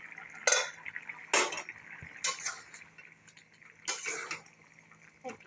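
Lifting a lid off a cooking pot in a home kitchen during cooking of jackfruit rice. There are a few sharp metallic clanks and clatters spread across the moment, fairly close, with a steady low hum underneath and no talk.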